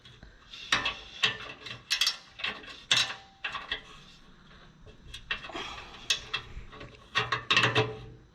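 Close ratchet clicks in short bursts with metallic clatter as a body mount bolt is tightened on a 1996–2002 third-generation Toyota 4Runner, a dozen or so uneven ratcheting spurts over eight seconds, no talking.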